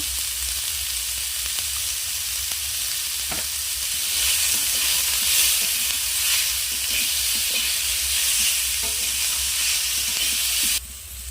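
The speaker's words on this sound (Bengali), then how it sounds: "ক্যাপসিকাম গাজর আমি হালকা আঁচে ভালো করে একটু ভেজে নেব, যাতে সেদ্ধ হয়ে যায়।" Capsicum and carrot fry gently in a pan over low heat, a steady soft sizzle with faint stirring scrapes running throughout, fairly close and continuous before cutting off abruptly near the end.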